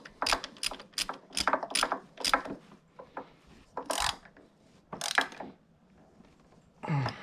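A bolt on a block off plate of a Triumph Daytona 675R being tightened by hand with a ratchet, giving quick bursts of clicking and scraping in short rhythmic runs with pauses, close and fairly quiet.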